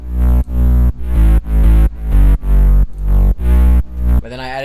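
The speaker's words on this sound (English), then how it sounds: "the strong point in this drop is this bass that I added with a bunch of bit crusher" Heavy EDM drop bass line processed with lots of bit crusher distortion, playing as loud, sustained pulsing notes in a steady rhythm with brief gaps between phrases, alone with no talking.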